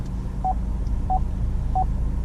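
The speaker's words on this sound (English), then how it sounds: "that beeping sound you hear, that's the sonar, rear sonar, or park assist" Rear park assist sonar on a 2016 Ford Escape gives three evenly spaced short electronic beeps, clear and moderately loud over a low steady hum inside the vehicle.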